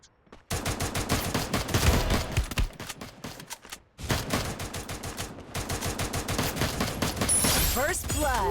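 Rapid automatic gunfire from the video game Free Fire crackles in dense bursts, pauses briefly, then resumes just as heavily, with a voice speaking faintly beneath the shots.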